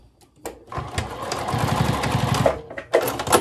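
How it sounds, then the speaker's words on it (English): A sewing machine bastes the lining of a reusable shopping bag in place, running as a steady close-up whir of rapid stitches for most of the clip, with brief pauses at the start and near the end. "I'm gonna fold my lining to the back and just baste this on"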